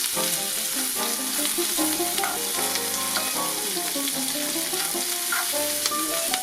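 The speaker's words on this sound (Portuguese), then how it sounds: "Agora a cebola vai dar uma murchada, vai também começar a dourar." Onion frying in sausage fat, a dense, even sizzle running the whole time while tonal background music plays over it.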